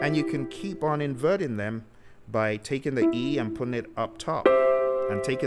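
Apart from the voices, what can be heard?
No everyday noise stands out behind the speech.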